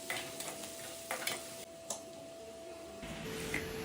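Onions sautéing in a pan for chicken pepper fry, with a soft steady sizzle broken by several sharp clicks and scrapes of stirring, quiet and close.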